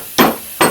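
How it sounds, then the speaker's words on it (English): Two sharp metallic hammer strikes on an old trailing arm bushing of an 04-08 Pontiac Grand Prix, close and loud, spaced about half a second apart, with no voices. "We're going to attempt to hammer it out now."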